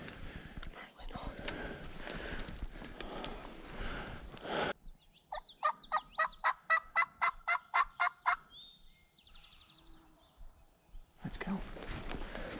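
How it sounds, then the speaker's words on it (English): A wild turkey's gobble rattles out as a rapid burst of about ten evenly spaced notes in the middle, fairly clear at moderate distance, with speech and outdoor rustling before and after. "Was that gobble not up here?"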